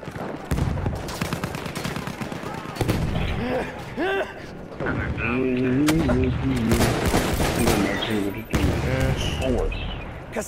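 Rapid bursts of video game gunfire crackle in quick volleys throughout, loud and close, mixed with game sounds while a player talks over it.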